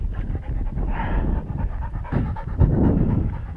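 Gun dog panting heavily after retrieving game on a pheasant and wood pigeon shoot, quick rhythmic breaths close by, alone and fairly loud.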